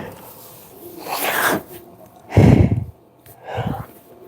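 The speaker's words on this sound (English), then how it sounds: "I don't know why I'm so prone to over-yawning in the morning these days." A man yawns in the morning with a few drawn-out breathy yawns and exhales, each a separate close burst with quiet between them.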